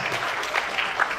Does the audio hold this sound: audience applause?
yes